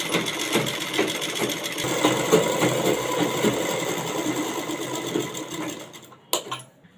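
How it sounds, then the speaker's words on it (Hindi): A sewing machine stitches fabric and lining together at a half-inch seam, a steady close mechanical whir with rapid needle clatter that runs continuously and stops near the end. "यहाँ पर हम इस तरीके बराबर से रख के आधे इंच पर सिलाई लगा लेंगे"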